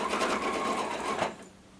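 A sewing machine runs in a steady continuous burst stitching quilt blocks of recycled scrap fabric for a disappearing four-patch, then winds down and stops near the end, close and clear with no talk.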